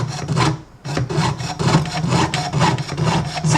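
A jeweler's saw cuts through metal in quick, even back-and-forth strokes, a close, loud, rasping rhythm repeating several times a second with one short pause, and no voices.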